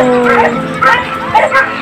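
A dog lets out short yips and whining whimpers, a few high cries in quick succession, close by.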